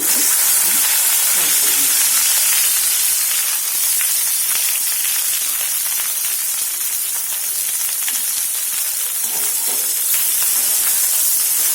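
Cut okra fries in hot oil in a kadhai, giving a loud, dense, unbroken hiss and sizzle close by.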